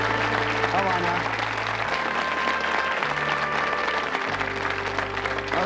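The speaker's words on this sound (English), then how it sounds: "Give them a great round of applause, folks." Loud, sustained applause from a studio audience, dense continuous clapping with a low hum and faint voices mixed underneath.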